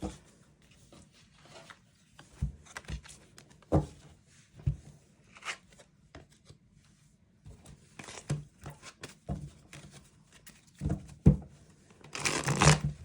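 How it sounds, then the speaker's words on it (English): Tarot cards are shuffled by hand in a run of soft, intermittent riffles and slaps of moderate loudness, with a busier burst of rustling near the end. "Capricorn, let me shuffle real quick."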